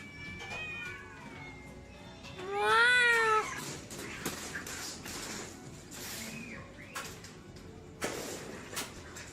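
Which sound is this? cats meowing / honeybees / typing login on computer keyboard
cats meowing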